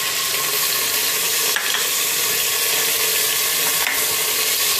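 Potatoes and peas fry and get stirred in a pressure cooker pot with cumin, a dense continuous sizzle with a couple of brief scraping sweeps, close up and without talk.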